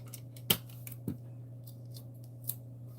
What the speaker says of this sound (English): I want to tape this down.